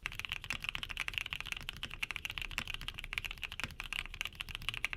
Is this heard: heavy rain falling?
no